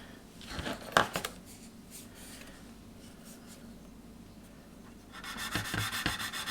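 Medium sandpaper rubbed on a plastic Airfix 1/72 B-17G model kit, quiet scratchy strokes in short bursts, with a louder rapid rasping run near the end.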